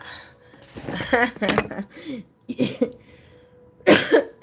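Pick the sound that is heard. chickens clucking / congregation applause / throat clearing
throat clearing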